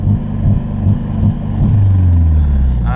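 A turbocharged KA24DE-T engine in an S13 Nissan 240sx idles up against a 3,000 rpm rev limiter, giving a loud, deep drone with rhythmic stuttering pulses roughly every half second before settling into a steadier hum.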